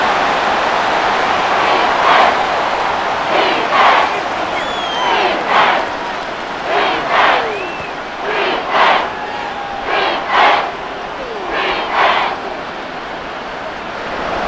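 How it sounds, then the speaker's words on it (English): Stadium crowd in the Madden NFL 24 video game, with a Chicago Bears and Houston Texans matchup, roars in rolling waves that swell and fade in a steady rhythm, loud and continuous behind the play. "This crowd doing all they can."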